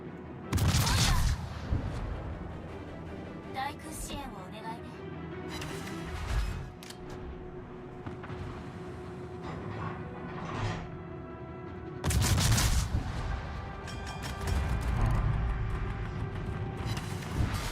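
Heavy naval gun salvos boom out from warships in World of Warships, with bursts of rapid artillery fire and rumbling blasts in two loud clusters separated by quieter stretches of distant firing.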